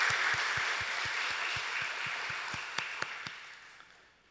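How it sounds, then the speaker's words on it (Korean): A church congregation gives a round of applause for the Ebenezer praise team at a Sunday evening worship service: a steady wash of clapping that fades out, with a few separate claps near the end. "우리 에베네셀 찬양단 축복의 박수 한번 해줍시다"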